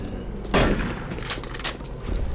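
A shotgun blasts once in the video game Doom 3, a loud, close burst with a fading tail, followed by quieter game noise and a second softer hit near the end.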